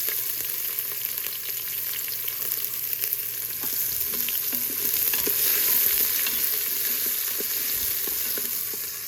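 Chopped half onion frying in a home kitchen pan, a soft continuous sizzle close by with faint stirring ticks scattered through it and no one talking.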